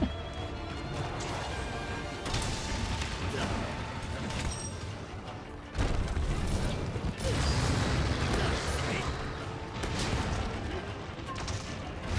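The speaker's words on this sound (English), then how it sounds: "Gog's over there like a champ, shelling away." Gunlance shelling blasts and clanking weapon mechanisms in Monster Hunter Rise mix with crashing combat noise in a dense, continuous fight, with voices talking over it.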